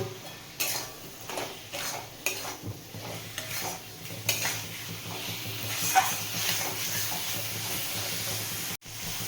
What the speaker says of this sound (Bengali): ভেজে রাখা আলুগুলো এর মধ্যে দিয়ে কষিয়ে নেব